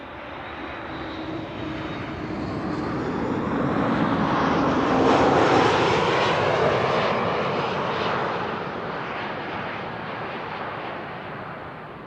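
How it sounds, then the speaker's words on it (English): A TUI Boeing 737 Max 8 approaching the runway at Amsterdam Schiphol, its engine roar swelling steadily to a broad peak overhead and then slowly fading as it passes, with no voices. "That's the TUI Max 8 that came over the airfield, approaching the runway from the north."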